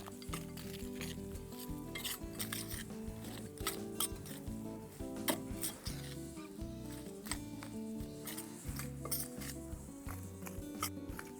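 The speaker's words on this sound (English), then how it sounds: "And then fold everything together with a spoon" A spoon folding raspberries into donut mixture in a bowl, with soft wet stirring and repeated light clinks against the bowl in an uneven rhythm, close and quiet, with faint music underneath and no talk.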